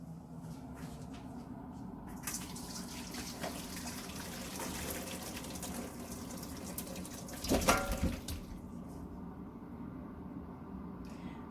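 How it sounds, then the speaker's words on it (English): Water from boiled chicken poured off into a sink, a gushing splash that swells briefly midway over steady background running water, close by. "So I'm just going to remove the water."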